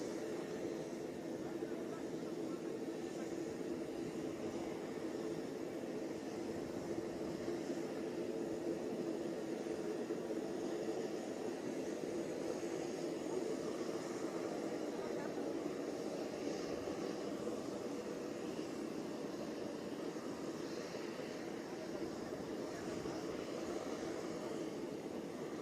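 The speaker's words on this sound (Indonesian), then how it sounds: "Bapak Heru Budi Hartono memasuki pesawat dan bersiap untuk lepas landas menuju ke Bandara Halim Perdana Kusuma di Jakarta" Steady, broadband engine roar of an aircraft cabin as the plane prepares for takeoff bound for Halim Perdanakusuma Airport in Jakarta, a continuous moderate hum with a voice talking faintly underneath throughout.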